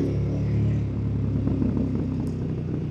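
A KTM 1290 Super Adventure S motorcycle rides along at a steady pace. The engine rumble is loud, continuous and droning, with no speech.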